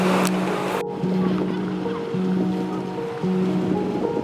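Sea waves wash against the coast at Oamaru, New Zealand, a loud, continuous rushing surf with a steady low hum running under it and no talking.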